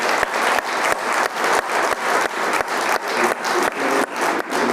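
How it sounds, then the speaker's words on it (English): Loud, close audience applause at an industry fireside chat, a dense sustained roar of clapping that surges in regular waves with no talking. "you're going to have to clap very loudly indeed to thank Jerry for his superb performance"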